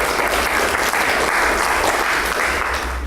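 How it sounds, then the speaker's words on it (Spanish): Steady, dense applause from an audience welcoming a speaker at a round-table on youth literature and cultural diversity, loud and continuous throughout with no talking over it. "Un fuerte aplauso para él."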